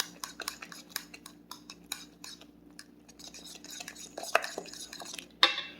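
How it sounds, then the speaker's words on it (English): Pork rind and batter for carnivore cornbread muffins being stirred in a bowl, giving a steady run of clinking utensil scrapes and taps, close and moderately loud, with no talking. "I try to give this a good thorough mix."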